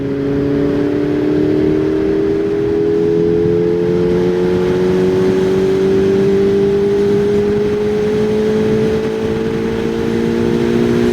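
A QJ Motor SRK 421 RR four-cylinder motorcycle on a road ride, its engine holding a loud, steady whining drone close by with the pitch slowly rising, no talking.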